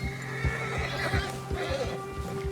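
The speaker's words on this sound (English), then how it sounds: "The bear has spooked your horse. When a predator is nearby, your horse gets agitated." A horse agitated by a nearby bear in the video game Red Dead Redemption 2 lets out loud, shaky whinnies and neighs over restless hoof clops, close and fairly prominent.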